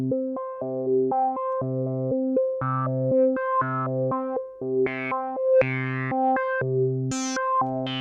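A distorted Dreadbox Typhon synthesizer plays a choppy repeating pattern, its tone brightening and sweeping as the filter opens, with warbling modulation on the notes.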